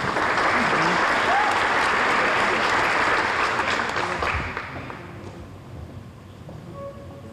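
A banquet audience at the American Legion Teenager of the Year Awards in Terrebonne Parish applauds the nominees, steady loud clapping that gradually thins and fades toward the end.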